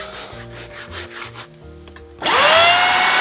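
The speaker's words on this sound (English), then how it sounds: "bit more rubbing in with a brush" A brush scrubs a carpet pile worked with spot cleaner, hard rhythmic rubbing strokes at close range with a tonal hum in the background, followed by a louder, steady whoosh of a portable spot cleaner starting up.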